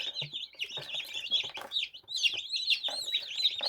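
High, rapid peeping of many newborn chickens, a continuous overlapping chorus of bright chirps, close by with faint rustling underneath.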